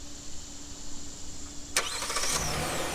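A 2023 Hyundai Palisade, started remotely by key fob, cranks with a sharp burst and then settles into a steady idle, close by and with no voices.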